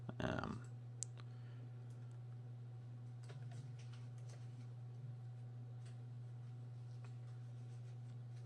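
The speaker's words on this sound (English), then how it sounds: "Again, let's click this one." A computer mouse gives one sharp, close click early on, followed by a few faint ticks over a steady electrical hum in a quiet room.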